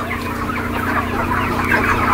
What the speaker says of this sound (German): da vorne in dem Frachtschiff sind auch ganz viele Hühner, sogar noch mehr als hier